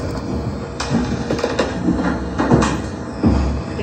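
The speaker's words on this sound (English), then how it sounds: "Here, this is that dragging sound." Heavy metal objects dragged across a floor in the room below grind and scrape in irregular pulses with creaks and squeaks, muffled through the ceiling and fairly steady.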